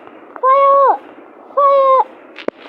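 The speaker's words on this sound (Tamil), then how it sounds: "இங்கேருந்து நான் ஃபயர் பண்ண முடியுமா கைஸ்? ஃபயர்." Two bursts of weapon fire from the video game Narrow One, each a sustained tonal shot effect lasting about half a second, spaced a second apart, then a short sharp click near the end.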